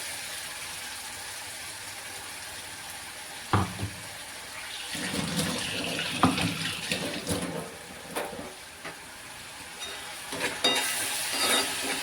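Pasta ingredients and paste fry in hot oil while being stirred, giving soft sizzling with irregular scraping and clattering stirring strokes that come and go in bursts.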